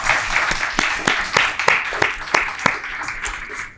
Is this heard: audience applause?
yes